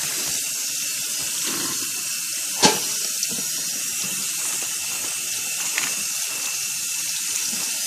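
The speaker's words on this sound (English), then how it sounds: "Turn on cold water." Cold water gushes steadily from a kitchen tap into a sink, a loud, even hiss throughout, with one brief clunk early on and a few faint clicks.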